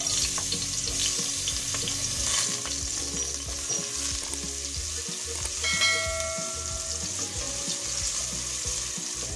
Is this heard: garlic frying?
yes